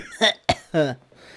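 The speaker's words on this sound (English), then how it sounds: "I feel like I have to constantly cough and sputter and clear my throat" A person coughs and clears their throat, three short harsh bursts close up, followed by a faint breath.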